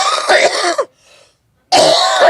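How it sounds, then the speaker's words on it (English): A person coughs hard while taking steroids, two harsh, loud bursts close to the mic with a short quiet gap between them, raspy and phlegmy. "It's coughing up all my stuff."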